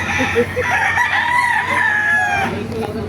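Roosters crowing with chickens clucking at a chicken market in Baliuag, Bulacan, one drawn-out crow rising over a busy background of clucks and low crowd noise.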